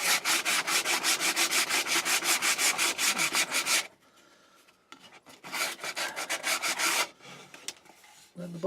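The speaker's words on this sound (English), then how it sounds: "Get some sandpaper in there. Try and get that off inside there." Sandpaper rasps back and forth on scrap wood for a magazine rack, in fast, even, loud strokes close by. The sanding stops briefly, resumes in a second burst, then ends in a few scattered scrapes.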